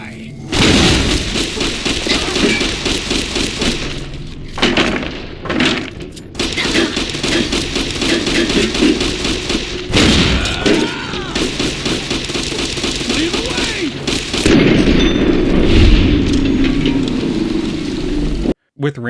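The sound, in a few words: grenade launcher explosions in the video game Fallout: New Vegas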